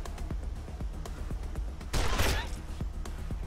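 Gunfire from a weapon in the video game Wasteland 2: a burst of several sharp, loud shots with sparse clicks and thuds before and after, heard over game background.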